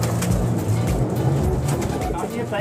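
Teddy breeder pigeons coo in low, throaty repeated calls close by, with a faint background hum and possible voices underneath.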